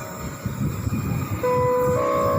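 A Pangrango passenger train from Sukabumi rumbles loudly into Paledang station near Bogor, with heavy rolling noise and a sustained horn-like tone joining partway through.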